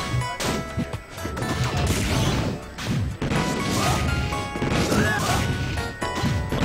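A down smash attack lands in a Project M Smash Bros match between Ike and Wolf, part of a busy, loud stretch of crashing hits, whacks and swooshes that keeps up throughout.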